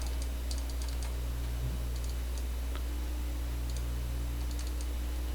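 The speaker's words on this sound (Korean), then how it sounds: "이 블랙 포인트를 더블 클릭 한번 해보세요" A computer mouse is double-clicked while editing a photo, giving faint paired clicks that repeat a few times over a steady low hum.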